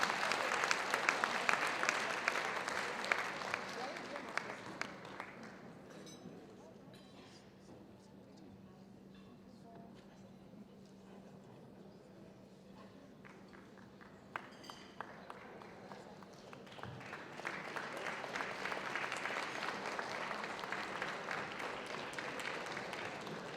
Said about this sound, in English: Keep that round of applause coming.